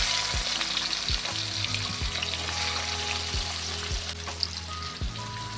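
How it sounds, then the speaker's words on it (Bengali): Chopped onions sizzle steadily in hot ghee for a Punjabi-style mutton curry, a dense close frying hiss with a few soft stirring knocks and no voices. "পেঁয়াজটা লাল করে ভেজে নেব।"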